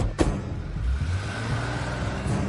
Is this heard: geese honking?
no